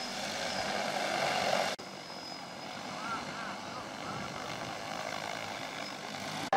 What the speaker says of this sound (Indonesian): rombongan juga menyaksikan demo penggunaan drone sebagai alat pemupukan lahan